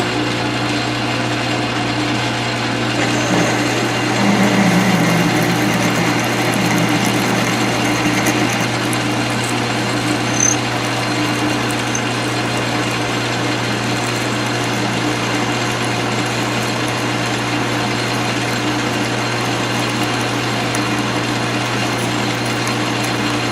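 A 9-inch South Bend lathe drills 12L14 leaded steel with a steady mechanical hum and whine, a continuous drone with faint cutting noise and no talk.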